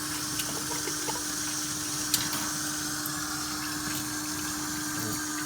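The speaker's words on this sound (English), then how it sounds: "Fill it about, I don't know, a third to half of the way full of water." Water runs steadily into a homebrewing container being filled for sanitizing, a constant rushing flow with faint small clicks and no voices.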